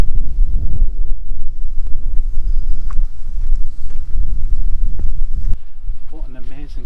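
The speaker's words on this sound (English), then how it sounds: "It's a bit windy like." Gusty wind buffets the microphone at a wild camp in the Northumbrian hills near the Simonside Hills, a steady low rumble with rustling bursts, fading briefly near the end.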